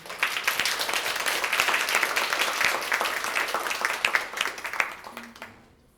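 Applause from the audience at a student government (ASG) Senate meeting, a dense round of clapping held steady for about five seconds before tapering off at the end.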